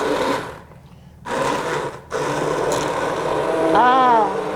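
An immersion blender purees Moroccan carrot and ginger soup in a pot, a close buzzing whir that cuts out briefly and then runs steadily, with voices talking over it.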